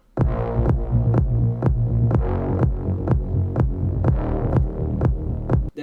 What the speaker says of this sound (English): together with the kick they have to sound like clear